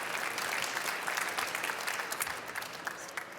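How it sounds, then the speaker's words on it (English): Audience at an additive manufacturing summit applauds a speaker, a steady, even wash of clapping from many hands at moderate level, without a break. "Big applause, please."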